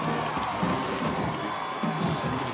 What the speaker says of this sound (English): You hear that home crowd roar.